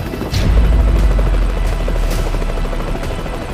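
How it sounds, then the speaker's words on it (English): An unidentified aircraft flies low just above the treetops, its loud, steady, heavy rumble close overhead and sustained throughout. "There's a unidentified plane flying around just above the treetop."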